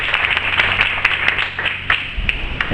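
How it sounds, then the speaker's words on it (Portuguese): A church congregation applauds steadily after a sermon, a dense wash of many hands clapping close and loud, with a few sharper individual claps standing out throughout. "Quantos de vocês podem aplaudir a palavra do Senhor nessa noite?"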